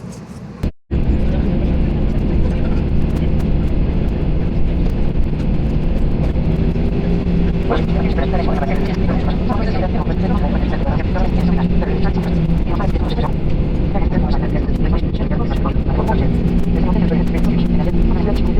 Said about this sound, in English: On the plane. Waiting to take off.